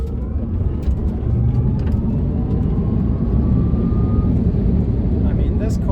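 A dual-motor Tesla Cybertruck driving over a bump makes a steady, fairly loud road rumble and motor whir while a person talks over it.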